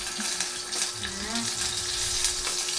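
Onions sautéing in a hot pan for a home-cooked Filipino ulam, a steady close sizzle running throughout with light stirring and faint voices in the background.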